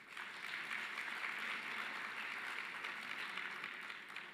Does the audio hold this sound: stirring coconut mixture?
no